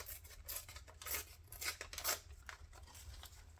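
Paper is torn for a shabby-style winter journal page in a handful of short, crisp rips in quick succession, faint and close in a quiet room.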